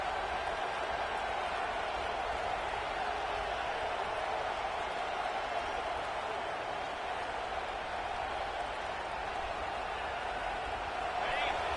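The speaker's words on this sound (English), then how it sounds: "This crowd full throat, splitting the eardrums" Football stadium crowd at LSU vs Notre Dame roaring at full throat, a dense, steady wall of noise that stays loud and unbroken for the whole stretch.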